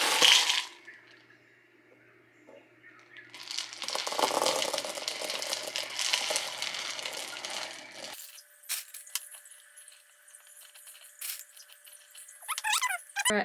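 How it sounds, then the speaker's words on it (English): Leca clay pebbles rattle and clink as a rooted plant cutting is potted up, scattered pouring and shifting bursts with quieter handling gaps and a few sharper clicks near the end. "Just pot her up in leca here."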